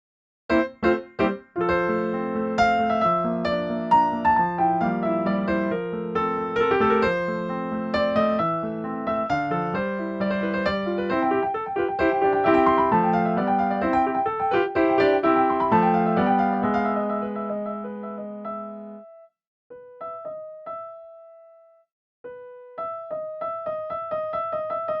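Solo piano playing the third section of Für Elise, a dense run of chords and arpeggios that thins into sparse single notes with short pauses near the end.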